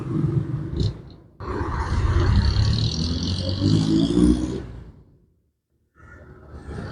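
Large truck rumbling past on a street, a loud roaring whoosh that swells for several seconds and then fades to near silence before other traffic noise returns.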